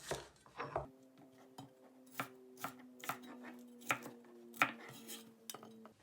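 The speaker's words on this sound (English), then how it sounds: "Now split it into 3 pieces and cut it the same size as the onions." A knife chops a vegetable into pieces on a board for a seafood dish, giving a steady run of sharp, close taps over a faint background hum.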